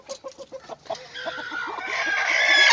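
Chickens cluck in a rhythmic run of short calls, then a loud rooster crow rises and stretches out over the last seconds, close by.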